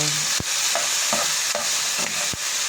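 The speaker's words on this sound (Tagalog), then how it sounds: "Halo-halo mix lang siya." Chicken adobo with tomatoes stirred in a hot pan, a loud continuous sizzle broken by several sharp spoon-against-pan knocks and scrapes at an uneven pace, close up and with no voices.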